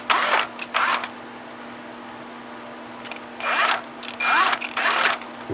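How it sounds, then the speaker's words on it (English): Several short, loud bursts of a whirring drill boring into a guitar start and stop, separated by quiet gaps with a low steady hum. "My drill bit doesn't want to go in there"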